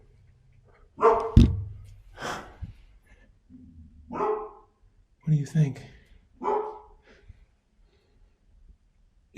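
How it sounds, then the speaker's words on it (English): A dog barks in sharp bursts, a few loud near barks spread over several seconds inside an abandoned Gothic asylum, with people talking in between. "Get jump scared by the dog."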